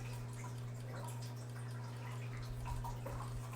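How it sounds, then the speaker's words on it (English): Gentle, continuous trickling and dripping comes from a little tabletop water fountain, quiet and close, over a steady low hum in an indoor room. "got my little tabletop fountain going"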